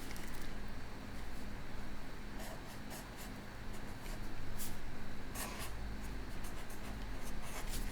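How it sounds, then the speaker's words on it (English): A black marker writing a name neatly on paper, giving steady soft scratchy squeaks and rubbing strokes up close with no talking. "Now I'm going to use a black marker and I'm going to write my name"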